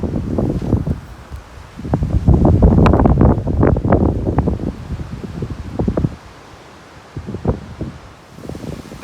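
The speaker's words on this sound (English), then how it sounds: "the wind." Gusts of wind buffet the microphone outdoors near a woodland sawmill shelter, loud rumbling bursts rising and falling irregularly, strongest in the middle then easing to softer intermittent gusts.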